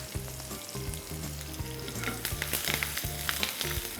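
Mustard seeds, green chilies and curry leaves hit very hot oil for Gujarati khandvi, crackling and sizzling steadily at close range over a rhythmic background music track.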